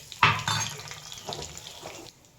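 Chopped curry leaves and green chillies hit hot oil in a dhokla tempering, a sharp burst of crackling and sizzle with a stirring scrape, then settling into a softer fry that fades out.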